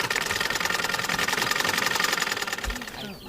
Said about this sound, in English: he then started operating his sewing machine much faster